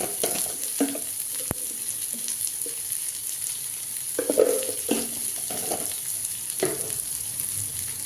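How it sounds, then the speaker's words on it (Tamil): Onions sauté with turmeric in a pan for egg poriyal, giving a constant close sizzle broken by several soft scraping stirs and a sharp tap. "பாருங்க நல்லா வதங்கணும் பாருங்க நல்லா வதங்கிருச்சு"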